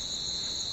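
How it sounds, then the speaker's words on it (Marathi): Crickets chirp at night in a quiet Konkan village, a continuous high, steady trill with no pauses, fairly loud over a faint low background hush. "गावाला ॲक्च्युली शांतता भरपूर असते ना, त्यामुळे रातकिड्यांचा आवाज एकदम प्रॉपर येतो"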